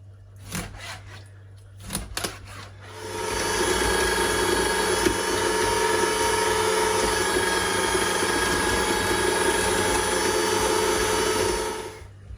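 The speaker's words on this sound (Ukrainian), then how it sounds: "Я зробила уже фарш через м'ясорубочку, я прокрутила два рази" An electric meat grinder mincing fish with onion and garlic for silver carp patties: a few handling knocks, then a steady loud motor whine with a grinding hum that runs for about nine seconds before cutting off.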